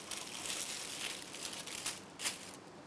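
A thin sheet of dioul (brick) pastry is handled in a kitchen, giving a steady soft crinkling and rustling with a couple of louder crackles near the end.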